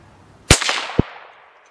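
A single sharp rifle gunshot fired outdoors at a shooting bench, loud and close, with a ringing tail that fades over about a second, followed by a second short crack.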